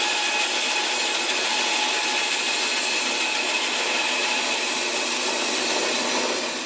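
A bandsaw cuts a thin slice off the bottom of a birch block for a coaster holder, giving a steady, loud, unbroken whine with no talk.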